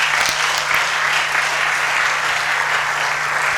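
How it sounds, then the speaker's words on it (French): Loud, continuous clapping fills a hall as students applaud a classmate's correct answer during a school quiz event with a central bank governor, a dense, even roar of hands sustained close by without a break. "On peut applaudir pour lui."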